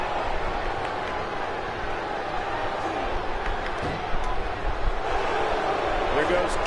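Dense, steady roar of a huge wrestling arena crowd in WWE 2K19, tens of thousands of fans cheering continuously with swelling bursts, a commentator's voice talking over it.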